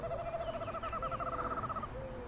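A screech owl calls from close by on a spring riverbank, giving a steady trilling whinny of rapid notes that holds for about two seconds before a softer closing note.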